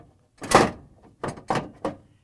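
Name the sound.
Frigidaire icemaker ice container and auger assembly sliding into place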